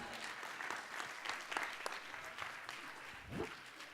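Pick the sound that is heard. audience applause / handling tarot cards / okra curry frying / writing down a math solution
audience applause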